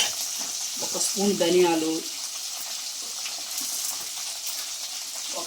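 Green chillies, ginger, coriander seeds and cumin fry in a pan with a steady sizzle, a brief louder burst as an ingredient goes in, while someone speaks over the cooking.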